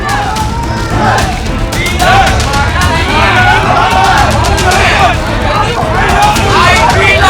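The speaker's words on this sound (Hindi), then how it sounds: "अचानक भगवा झंडे के साथ कुछ लोगों की भीड़ आ गई और नारेबाजी करने लगी" A large crowd outside the Shankaracharya's camp shouts slogans in a loud, continuous roar of voices, close and dense throughout with no pauses.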